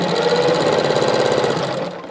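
A domestic sewing machine stitches the traditional patchwork binding with a steady, fast mechanical whir and rapid needle rhythm that runs continuously close up, slowing and fading at the end.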